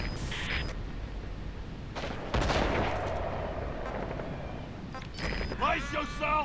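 Gunfire in the video game Metal Gear Solid V, loud bursts of rapid shots and booming blasts amid game noise, with talk over parts of it.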